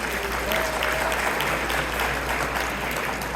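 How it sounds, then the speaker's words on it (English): A crowd at a panel event with Islamic scholars gives a round of applause, loud, steady and close throughout the clip. "let's get a round of applause for each of you"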